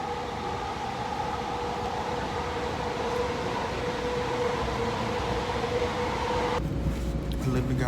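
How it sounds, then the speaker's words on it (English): A New York City subway train rumbles along the rails with a steady low roar and a sustained tonal whine, growing rougher toward the end as the ride continues. "I literally got on the wrong train,"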